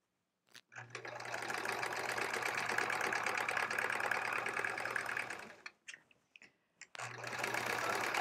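Sewing machine piecing improvised quilt-back fabric, a loud steady whirring run of about five seconds, then a pause with a few clicks before the machine starts up again.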